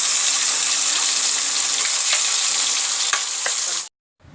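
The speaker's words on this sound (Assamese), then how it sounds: "ফুটিছে কালজিৰাকেইটা।" Nigella seeds (kalonji) crackle and sizzle in hot oil in a pan for a vegetable curry, a dense, bright, continuous frying hiss with small pops, close and loud, ending abruptly.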